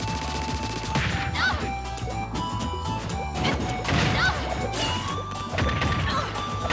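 Forward smash attacks landing in a Super Smash Bros match between Lucina and Inkling, heard as dense crashing and thwacking hit effects over busy game music and crowd noise, loud and continuous.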